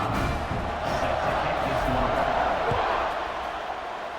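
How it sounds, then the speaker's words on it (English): Stadium crowd noise from a Canadian football video game buzzes after a score, a dense steady roar with cheering swells that eases slightly toward the end, filling the whole clip. "this crowd is buzzing after that last score"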